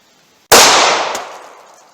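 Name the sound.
gunshot from a .32 H&R Magnum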